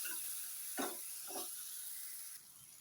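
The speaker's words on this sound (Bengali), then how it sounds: "ধনের গুঁড়ো, লঙ্কার গুঁড়ো, একটা টমেটো, ভেজে নেব মশলাটা।" Coriander powder, chilli powder and tomato fry as a masala for a small-fish curry, with a faint steady sizzle and two soft spatula strokes against the pan.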